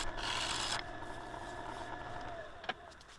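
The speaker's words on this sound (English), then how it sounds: "I'm just using that scraper and balancing it out." A hand scraper cuts across a turned redgum wood bowl on the lathe, giving a close, steady rasping scrape that eases after the first moment and continues more lightly with a brief sharper catch near the end.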